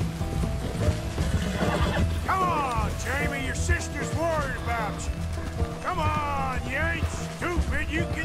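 Horses in Red Dead Redemption 2 neigh and whinny repeatedly over galloping hooves during a chase, with people talking throughout.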